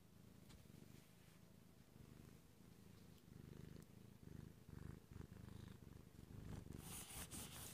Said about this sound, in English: And I got a kitty.